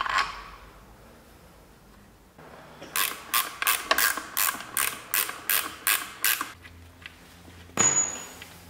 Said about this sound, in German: Jetzt machen wir die Schrauben drauf.